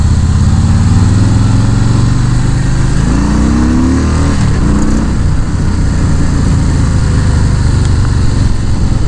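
A Harley-Davidson Fat Boy motorcycle is ridden with its engine rumbling loud and close throughout, rising in pitch as it accelerates and shifting midway.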